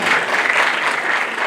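Audience applauding at a platform launch event, dense continuous clapping from a crowd, loud and close, a short burst with no break.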